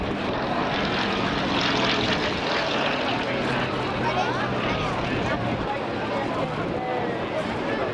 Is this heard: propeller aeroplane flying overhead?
yes